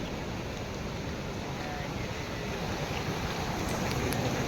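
Floodwater from the swollen Rajpuri river rushes over a bridge and culvert, a steady, loud, broadband roar of churning water that holds constant throughout without pause.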